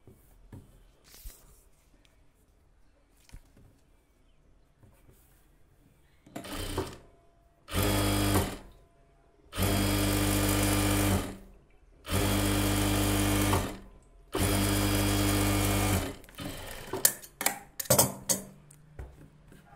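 A sewing machine stitches a blouse in four loud, steady bursts of a few seconds each, separated by short pauses and quieter handling noises.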